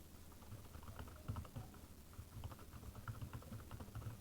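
Keys clatter on a computer keyboard as an email address is entered, a steady run of quiet, close taps with brief pauses and a faint low hum underneath.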